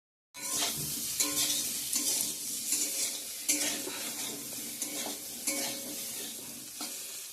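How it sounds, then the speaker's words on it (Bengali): Pumpkin slices fry loudly in a pan while a utensil repeatedly stirs and scrapes, making rhythmic clatters over the continuous hiss. "তো মিষ্টি কুমড়া ভাজাটা এদিকে হচ্ছে"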